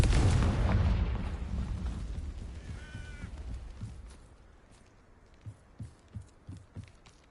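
A loud boom from the Confringo fire spell in the video game Hogwarts Legacy opens the clip and rumbles away over several seconds, followed by a few soft thuds and a faint bird-like call.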